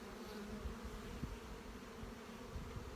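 Honey bees hum in an open hive during an inspection, a faint, steady, close buzz with no pauses.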